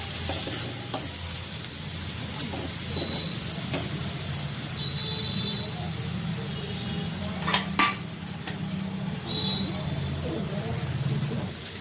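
Tomato and spices sizzle in a pan for a fish-head curry as a utensil scrapes and stirs them, with a couple of sharper metallic clinks near the end.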